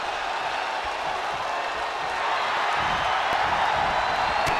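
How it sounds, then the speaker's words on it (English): Arena crowd in a WWE 2K wrestling match roaring and applauding steadily, a dense wash of cheers and clapping held at even loudness throughout. "These men are going back and forth as the crowd really seems to be into it."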